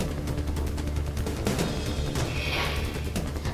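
A rapid volley of gunfire cracks out during a violent clash in Meerut, dense repeated shots over a constant background noise, fairly distant and harsh.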